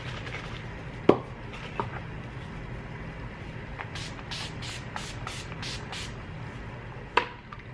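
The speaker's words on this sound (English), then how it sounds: "I'm gonna be using my Urban Decay De-Slick Setting Spray" An Urban Decay De-Slick Setting Spray bottle gives about six quick, close misting spritzes in a fast row. Light taps and handling noises come before them over a quiet room.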